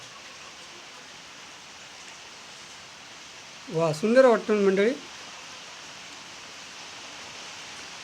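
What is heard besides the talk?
rain falling outside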